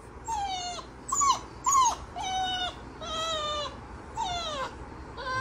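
A recorded puppy whimpers and whines through a speaker in a run of six or seven high, drawn-out cries separated by brief pauses, close and fairly clear, with no talking over it.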